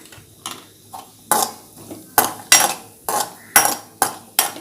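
A spoon scrapes and clinks around a pot as sugar is stirred into rice payasam, about nine distinct loud strokes in an uneven rhythm, close and with no talk.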